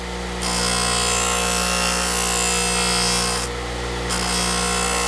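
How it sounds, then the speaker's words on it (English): A polishing buffing wheel charged with compound runs against the bevel edge of a chisel under very light pressure, giving a steady close whirring hum with a slight dip toward the end. "now I can see the buffing compound working on the edge"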